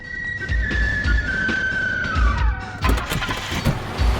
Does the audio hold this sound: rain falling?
no